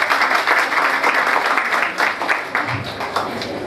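An audience at a wedding event bursts into applause, a crowded patter of many hands clapping close and fairly loud, while a voice talks underneath.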